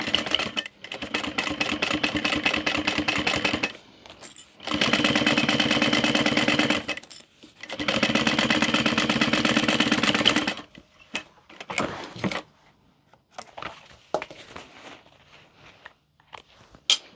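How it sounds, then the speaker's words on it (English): A sewing machine stitches handbag lining and flap pieces in three steady bursts of about three seconds each. Quieter handling noises follow, from fabric and the machine. "we are going to stitch them together and then top stitch"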